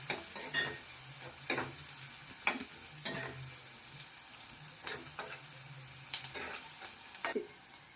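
Mustard seeds, cumin and curry leaves sizzle in hot oil in a pan while a spicy misal is being cooked. A soft, steady fry runs underneath, broken by scattered sharp seed pops and stirring clicks, faint and close.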